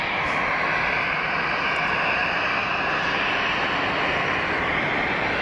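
Jet aircraft taxiing in at Geneva Airport, its engines producing a loud, steady, broadband roar and whine that stays constant and close throughout, with no other sounds standing out.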